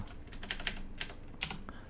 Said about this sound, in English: That's why you guys can hear sometimes that I'm typing.